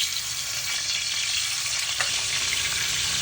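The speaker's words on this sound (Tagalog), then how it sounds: "So dito nga magpiprito na ako ng isda." Fish fries in a pan with a dense, steady sizzle and crackle, close and loud, with no voices.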